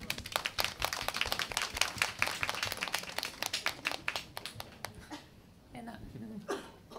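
Dense applause from a live concert audience, many hands clapping in rapid overlapping bursts that thin out after about five seconds, leaving scattered claps and faint room noise.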